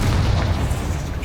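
Confringo fire spell explosion in Hogwarts Legacy, a loud, deep, sustained boom with heavy low rumble and broadband crackle filling the whole moment.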